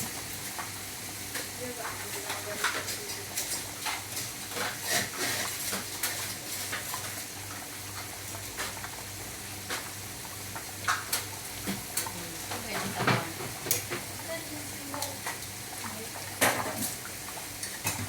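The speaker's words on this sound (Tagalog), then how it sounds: "So ayan na po guys ang ating shrimp fry" Sprite-marinated shrimp frying in a pan give a steady, close sizzle throughout, with occasional utensil scrapes and clinks from stirring.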